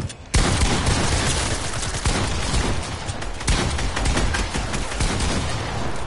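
Gunfire in the Fortnite video game rattles out in dense, sharp, loud bursts of rapid shots, with a few heavier cracks standing out, alone with no talk.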